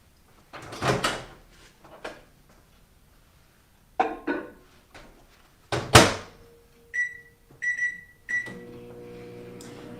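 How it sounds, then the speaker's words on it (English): A kitchen microwave oven being loaded and started: a door clunks shut, keypad beeps sound in short bursts, then the steady hum of the oven running begins. "We're going to put this in the microwave for 1 minute"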